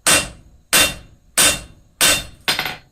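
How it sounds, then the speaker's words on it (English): A blacksmith drawing hot metal down to a short blunt taper on an anvil: five loud, ringing hammer blows at an even rhythm, each one sharp and close with a brief metallic decay. "The easiest way to address this problem is to forge down this material at a taper."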